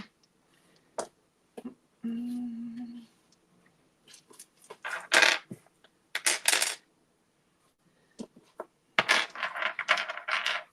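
Plastic role-playing dice, mixed types including D4s and percentile dice, clatter in irregular bursts of small clicks while being sorted, with a brief hum and talk mixed in.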